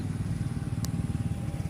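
Motorcycle engines running nearby during a rainy-season outing, a continuous low rumbling drone at moderate loudness with a brief high chirp in the middle.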